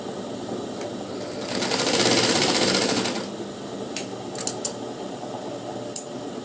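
A sewing machine stitching blouse lining seams, a close steady mechanical whir that swells for a couple of seconds, followed by a few small clicks and quiet handling sounds.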